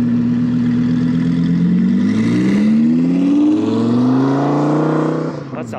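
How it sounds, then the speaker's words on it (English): A powerful V10 engine revs hard and climbs steadily in pitch as the car accelerates away, loud and close, fading at the end. "And there goes the V10."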